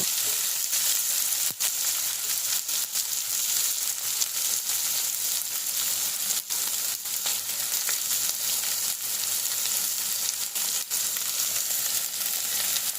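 Curry leaves frying in hot oil with onions give a steady, dense sizzle and crackle throughout, with a few sharp pops and spatula taps and no voices.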